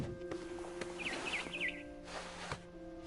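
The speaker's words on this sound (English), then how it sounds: "Then I heard chirping outside my window. It was a barn swallow going back to her nest." A barn swallow chirps in a video game: a short run of four quick high tweets over a steady humming room-like background, with a couple of soft thuds.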